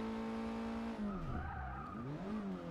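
A Ford Focus RS in Forza Motorsport 6 locks its tires under hard braking into a corner, giving a loud sustained tire squeal that bends in pitch over a steady engine drone, with no voices.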